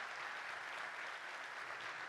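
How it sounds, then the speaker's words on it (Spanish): Steady, dense applause from a large audience at a national youth awards ceremony, an even wash of clapping that continues without a break. "pido un fuerte aplauso allá arriba en el cielo donde él está"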